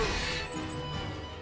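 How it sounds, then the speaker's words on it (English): Ice shatters from a freezing spell cast in battle in the video game Octopath Traveler, a single bright glassy crash that rings briefly and then decays into a fading shimmer. "whenever I use a freezing spell in a battle, the glass-shattering sound of ice forming then breaking is just so satisfying"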